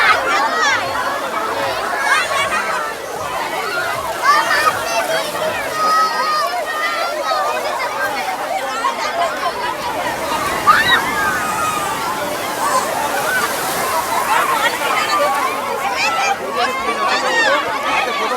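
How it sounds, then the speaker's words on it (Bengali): Busy sea beach at New Digha crowded with bathers, with splashing and sloshing water, breaking waves and a steady hubbub of many voices chattering and shouting throughout. "প্রচুর ভিড় রয়েছে। ওই দূরে চলছে বোট রাইড, আর এদিকে সবাই কিন্তু স্নান করতে ব্যস্ত।"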